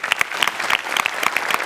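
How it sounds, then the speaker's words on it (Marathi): A comedy show audience claps in a lively, steady burst of applause, dense sharp hand claps filling the whole moment with no talk over it. "सो तुझ्याकरता एकदा स्पेशल टाळी"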